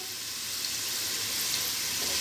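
Onions sizzle and fry steadily in a pan with garam masala for chicken pulao, a continuous soft hissing crackle close by with no talk.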